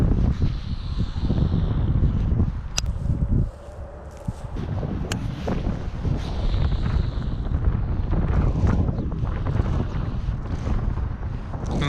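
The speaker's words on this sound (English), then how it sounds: "That wind is really picking up." Strong wind gusting on open water during a bass fishing trip, a loud low roar of buffeting against the microphone that dips briefly, then builds again, with faint rustling mixed in.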